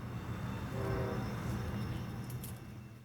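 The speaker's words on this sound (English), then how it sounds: "The daily Green River to Denver manifest is coming into town." Freight train, the daily Green River to Denver manifest, rolling into Greeley near the old depot and Amtrak station: a steady low rumble of rail cars close by, with a faint horn-like tone briefly rising over it.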